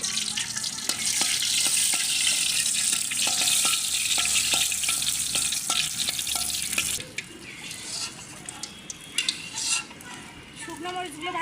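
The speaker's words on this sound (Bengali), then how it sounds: "এখন আগে হচ্ছে কয়েকটা শুকনো মরিচ ভেজে নেব।" Dry red chillies fry in hot oil in a village-style kitchen, giving a loud steady sizzle with scattered clicks of stirring that stops abruptly partway, leaving quieter scrapes and clatter of pans.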